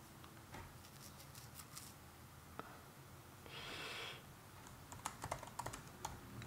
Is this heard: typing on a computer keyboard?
yes